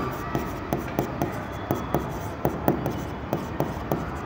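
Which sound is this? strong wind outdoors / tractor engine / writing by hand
writing by hand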